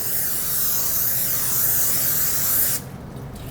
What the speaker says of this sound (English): you're gonna grease your pie plate.